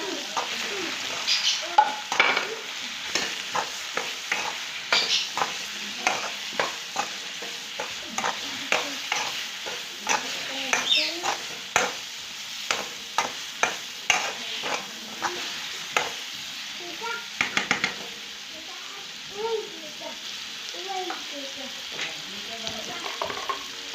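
Marinated chicken and masala sizzle in hot oil for a white chicken korma, a continuous close frying hiss broken by frequent sharp crackles and spatters, with stirring scrapes and no talking.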